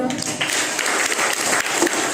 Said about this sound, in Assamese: সকলোৱে হাত চাপৰি বজাওক।